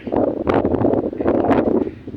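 Steady wind buffets the microphone at an open scenic overlook, a broad rushing noise with gusty swells throughout.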